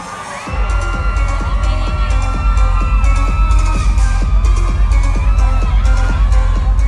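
A sold-out concert crowd cheers and shouts loudly and continuously, with many high screams and whoops layered over rhythmic bangs in the background.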